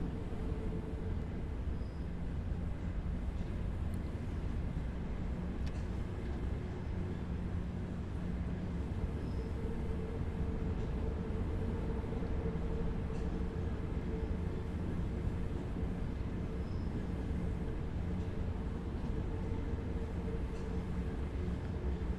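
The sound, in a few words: Akulok AL1 subway train running in Subway Sim 2 video game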